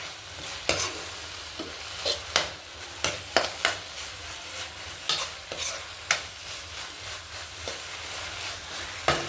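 Carrot halwa with added sugar and cardamom powder is stirred in a pan, with a gentle sizzle underneath. Sharp scrapes and clicks of the spoon against the pan come in an irregular, steady rhythm, close and clear.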